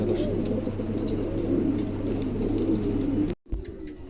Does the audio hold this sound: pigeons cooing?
yes